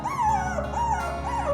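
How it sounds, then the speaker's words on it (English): Puppies whimpering in an animal rescue setting, a thin, wavering high-pitched whine rising and falling in short repeated cries, close and continuous with no voices. "Mommy and her puppies."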